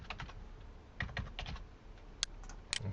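Someone types on a computer keyboard, producing quick clusters of close, crisp key clicks separated by short pauses.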